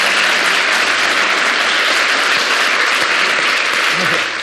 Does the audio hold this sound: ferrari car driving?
no